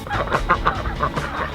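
Ducks on a homestead quacking, a run of short, rapid, overlapping calls close by against a busy outdoor background, with no talking.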